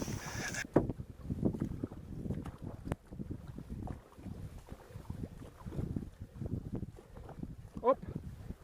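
Light canoe being paddled on water during a trial outing, with soft rhythmic splashes and knocks against the hull under wind buffeting the microphone, near and fairly quiet.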